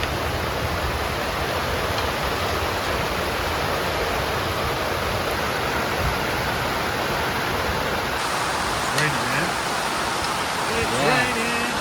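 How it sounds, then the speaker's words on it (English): Heavy rain pours steadily in Florida, a dense, loud, unbroken hiss of water hitting surfaces around a boat, with faint higher sounds near the end. "it was pouring rain for the first 3 days"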